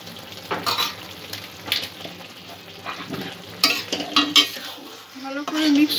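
Chicken bhorta being stirred in a frying pan, with a spoon scraping and clinking against the metal over a soft steady sizzle, the strokes coming in irregular bursts close up.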